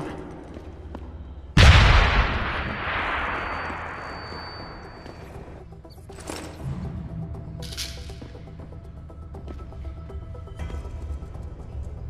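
A sudden loud explosion from the Deus Ex: Human Revolution video game in Hengsha, opening with a heavy low boom that decays over a couple of seconds, followed by scattered debris clatter and ambient game noise.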